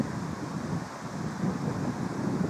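Steady wind buffets the microphone in low, rumbling gusts in a park ahead of a storm, with no other sounds standing out.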